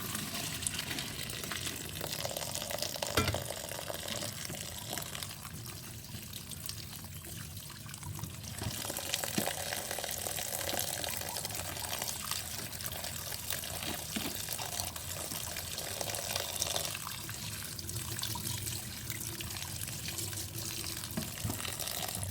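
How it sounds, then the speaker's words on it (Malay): Tap water runs steadily into a kitchen sink as boiled spaghetti is rinsed and drained, a continuous splashing rush with slight shifts in flow and no talking. "Bila spagettinya dah direbus, alirkan pada air."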